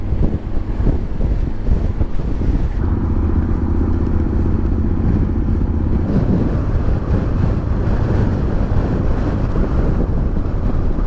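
Heavy, continuous wind buffeting roars against the microphone while riding a motorcycle near the sea, with a low engine rumble underneath throughout.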